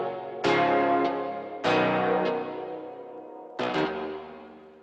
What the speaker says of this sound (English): So all together, the basses sound like this, or the chords sound like this.